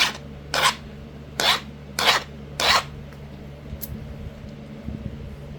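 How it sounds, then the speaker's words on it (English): An obsidian tomahawk preform edge is abraded in four distinct rough rasping strokes, close and clear, followed by quieter scraping and faint handling noise. "Sharpen up one more time and do the other side."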